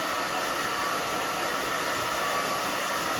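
A hair dryer blows steadily at close range while drying a short pixie cut, giving a constant broadband whoosh with no breaks for the full few seconds.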